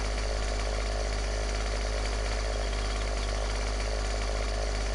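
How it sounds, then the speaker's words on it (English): A chainsaw runs continuously at high, steady revs, loud and buzzing with no pauses and no voices over it. "Chainsaw on my first try."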